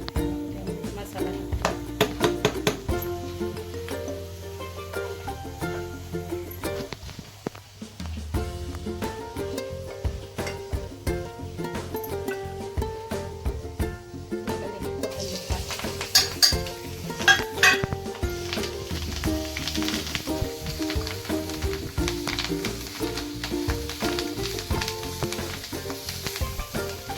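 Masala sizzles steadily as it is sautéed in a pan for a home-style dhaba egg masala, with occasional clinks of a spoon or utensil against the pan and tonal background music playing throughout.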